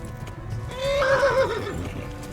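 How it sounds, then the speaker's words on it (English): Horse neighing and whinnying in Kingdom Come: Deliverance, a loud rising and falling whinny in the middle over a steady background of hoofbeats and game ambience, with no talking. "come on, horsey, keep going."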